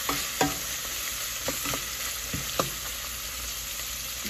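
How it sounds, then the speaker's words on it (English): Thick-cut bacon frying in a pan gives a steady, hissing sizzle throughout, with a few sharp pops and crackles, close and continuous with no talking. "today I'm actually using just a thicker cut bacon. And you just want to cook it and make sure it doesn't burn."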